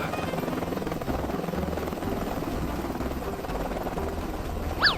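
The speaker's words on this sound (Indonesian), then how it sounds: "ini siapa yang parkir helikopter tiba-tiba di sini?" A helicopter's steady, throbbing rotor drone fills the air throughout, loud and close, with a brief sharp sound near the end.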